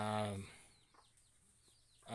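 Chickens cluck and chirp softly between bursts of nearby speech on a village pig and chicken farm, a few short farmyard calls in a quiet outdoor setting.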